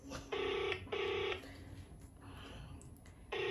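A phone call is dialed and rings out. Two loud, close ringback tones each last about half a second with a short gap between them, then come a few quiet seconds and a third tone starting at the end.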